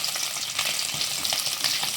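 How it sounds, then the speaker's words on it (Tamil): Fish pieces fry in hot oil for a crispy fish fry, a continuous close hiss and crackle with small bubbling pops and no voices. "இப்போ மீதி இருக்க மீனுங்களையும் அதே போல் நம்ம வறுத்து எடுத்துக்கலாம்."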